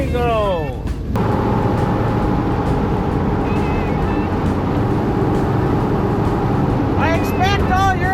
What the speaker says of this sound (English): I expect all you're able to hear is tire noise and wind.